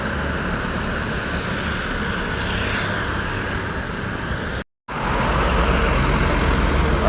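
A Hyundai Prima coach bus loaded with passengers from Padang rumbles past on the road, a steady loud engine and tyre roar with a brief cut of silence midway, no talk.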